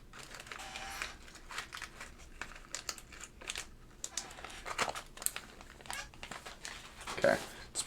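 A plastic bag crinkles and rustles as Alps SKCM keyboard keycaps are bagged up, an uneven run of close crackling handling noises with a few louder crunches near the end, no voices.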